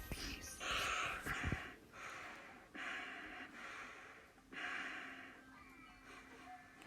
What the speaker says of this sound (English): The breathing on that, it seems like it's the same breathing as FNAF 2.